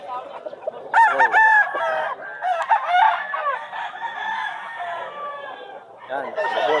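Several roosters crow loudly and close by at a pet market in Bulacan, their calls overlapping with clucking hens in a busy, continuous chorus of poultry.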